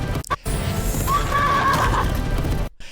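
A horse neighs loudly in the anime Fate/strange Fake, a long rising then falling whinny in the middle of a dense battle soundtrack, cut off by a short gap near the end.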